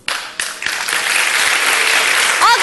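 Loud, close audience applause for a singer at a music show, a steady wash of clapping from a crowd lasting throughout, with a brief whistle-like tone near the end.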